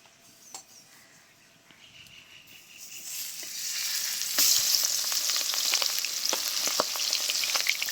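Fatty pomfret fish heads dropped into plenty of hot oil build from a quiet start into a loud, crackling splutter with sharp pops throughout.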